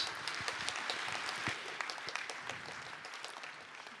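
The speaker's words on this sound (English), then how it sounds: "please join me in a big round of applause for our wonderful speakers" Steady applause from a conference plenary audience, dense clapping that holds for a few seconds and gradually thins out.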